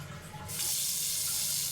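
Old sink faucet aboard the RMS Queen Mary, water starting with a soft trickle and then surging into a steady bright hiss of running water close by, with no voices.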